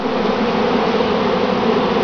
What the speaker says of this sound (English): Installing bees in the top bar hive.